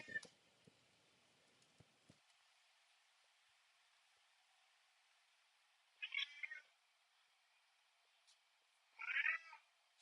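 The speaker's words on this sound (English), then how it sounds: "my cat has come to say hello" Two separate meows from a pet cat ring out in a quiet room, the first at mid-clip and the second near the end, each short and fairly close, with faint speech-like sounds early on.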